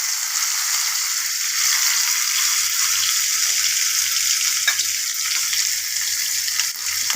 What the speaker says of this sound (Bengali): এবার ভাজা ভাজা করছি আলুগুলো।